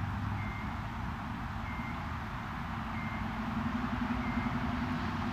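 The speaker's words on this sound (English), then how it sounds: "What's the beeping sound? There's some construction going on over there." Construction vehicle backing up nearby, its reversing beeps sounding at an even pace at a distance under a low engine drone and outdoor background noise.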